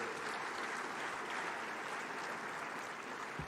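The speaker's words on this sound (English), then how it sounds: "Please, another resounding round of applause." Sustained applause from a large audience at the 30th Afreximbank Annual Meetings 2023, a dense even wash of clapping that holds steady throughout without voices.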